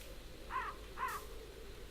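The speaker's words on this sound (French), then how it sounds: "Il y a beaucoup de corbeaux ici." Two quiet caws from crows in the video game Qora, about half a second apart over a low ambient background, with no talking.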